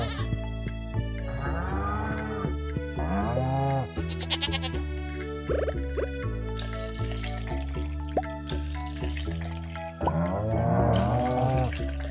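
Baby goats on a Stardew Valley farm bleat several times in a row, high wavering cries that come and go in bursts between dripping, plinking game sounds and steady background music, up close and fairly loud.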